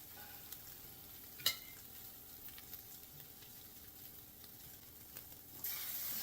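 French toast cooks on a new flat top griddle, a faint, quiet sizzle with a sharp clatter early on and a louder burst of hiss near the end.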